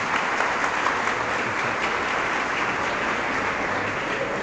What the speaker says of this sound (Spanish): Aplausos pues para los sacerdotes que también nos acompañan